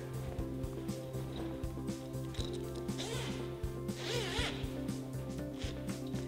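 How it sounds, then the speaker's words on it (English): The zipper on a fabric display graphic for a EuroFit Drift frame being pulled open, a long ratcheting zip in several strokes, close and steady, over a constant low hum. "the next thing I'm going to do is unzip my graphic"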